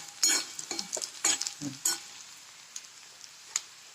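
Spices, green chillies and curry leaves sizzle in a pan for a Marathi toor dal amti, with light crackling pops and stirring scrapes, moderately close and fading toward the end.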